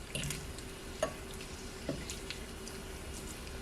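Bacon cooks in a mini cast iron skillet with a steady, faint hiss and sizzle, broken by a few soft clicks and taps near the pan.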